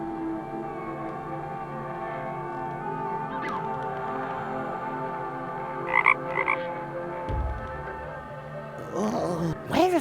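Frog croaks in the video game The Night of the Rabbit, repeated low calls over a bed of ambient game music, with a few brighter effect sounds near the end and no speech.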